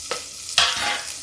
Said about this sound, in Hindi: उड़द और चने की दाल जब चिटकने लगे थोड़ा थोड़ा, यानी पक जाए समझिए, तो इसमें डाल देते लहसुन और प्याज